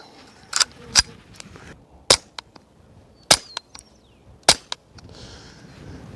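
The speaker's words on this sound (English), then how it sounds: "here's 8 or 9 rounds of the Winchester Super Suppressed" Suppressed .22 subsonic rounds, Winchester Super Suppressed, fired in a series of sharp, quiet cracks spaced a second or so apart, several followed by faint metallic clinks, with outdoor ambience between shots.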